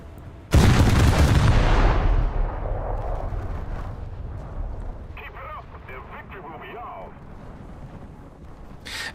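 The USS Nevada battleship fires its short 12-inch guns at close range in World of Warships: one sudden, heavy boom with a long rumbling decay, followed by quieter battle noise and faint distant crackles.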